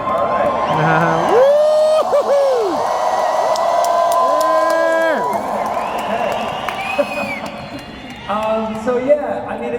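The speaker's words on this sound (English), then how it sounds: "hey, now, this is a good crowd" A convention crowd in Las Vegas cheering and whooping loudly, rising shouts and whistles over a dense crowd roar, with voices calling out throughout.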